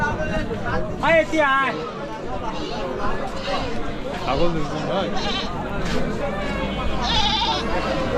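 Goats bleat repeatedly nearby in a noisy livestock market at Tengonmari, Jaldhaka, Nilphamari, their wavering cries rising over a background of people chattering.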